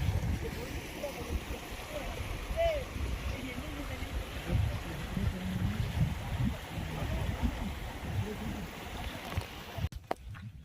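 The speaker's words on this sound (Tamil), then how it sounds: "அந்த வாட்டர் ஃபால்ஸில் இருக்க தண்ணி தான் அப்படியே இந்த வழியாக கீழே இறங்கி வருது" Water from a waterfall runs down a channel in a continuous, close rushing and gurgling wash, with voices talking over it and a few brief knocks near the end.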